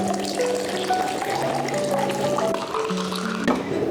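Watermelon spritzer drink poured into a bubble tea cup already holding popping boba, a steady continuous liquid fill at close range, heard alone without talk.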